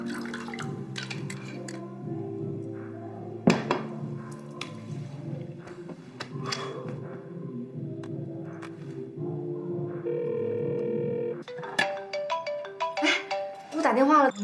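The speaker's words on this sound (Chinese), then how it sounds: "打电话了，你接还是不接啊？" A mobile phone ringtone plays for an incoming call in a Chinese TV drama scene, a repeating melodic tune ringing steadily and clearly for many seconds while voices talk over and around it.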